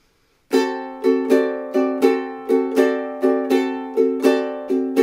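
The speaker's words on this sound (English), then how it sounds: "we're just going to strum through swung eighth notes or down up the entire time while just adding in that melody note" A ukulele strums a D seventh chord in a swung eighth-note down-up pattern, about ten bright, evenly ringing strums in a steady loop, close and clear with no talking.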